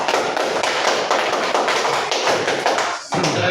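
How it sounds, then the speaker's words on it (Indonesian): A classroom of students applauds a student group in a dense, loud, continuous burst of clapping that dips briefly near the end. "berarti tepuk tangan dulu untuk kelompok 3"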